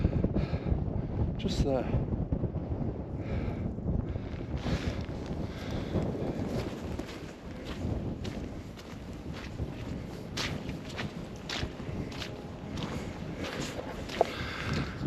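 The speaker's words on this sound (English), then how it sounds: "I hope you can hear me with this wind" Steady wind buffeting the microphone with low rumbling gusts throughout on a misty hillside walk to a WW2 B-24 Liberator wreck site, someone speaking briefly over it.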